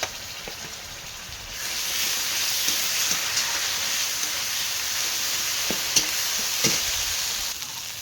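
Cumin, coriander, ginger and dried chili fry in a pan with garlic for a fish curry, giving a steady close sizzle with a faint hiss and occasional crackles and stirring taps, and no voices.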